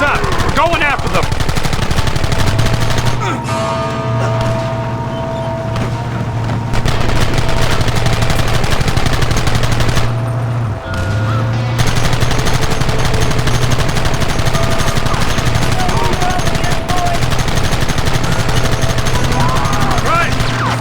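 Rapid gunfire, a dense steady barrage of shots and machine-gun bursts, fills a Red Dead Redemption shootout, loud and continuous, with shouted voices under the racket.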